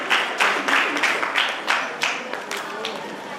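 An audience at a district youth festival in a hall claps to welcome the district youth and sports officer to the stage, an irregular series of bursts under a speaker's amplified voice.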